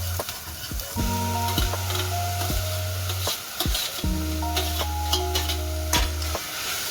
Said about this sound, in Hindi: अब प्याज गोल्डन ब्राउन हो चुकी हैं, तो अब हम बाकी सब्जियों को डालेंगे